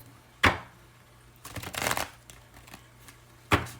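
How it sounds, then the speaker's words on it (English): Tarot cards being shuffled by hand, with two sharp riffles at the start and end and a longer rustling burst in the middle, close and fairly quiet with no talking. "This is the 3rd shuffle."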